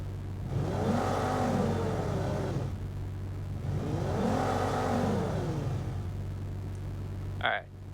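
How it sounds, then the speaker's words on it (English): A synthetic engine drone from Krotos Igniter software swells and revs in two long rising-and-falling passes over a steady low hum, ending with a brief sharp click. "Let's put in the engine sound."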